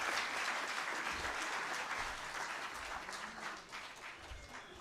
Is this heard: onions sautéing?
no